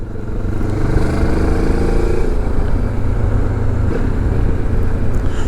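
A Benelli TRK 702 motorcycle engine runs on a dyno, giving a steady, loud, close drone with a slight shift in pitch partway through and no speech.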